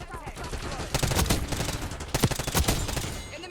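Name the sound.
gunfire in the video game Call of Duty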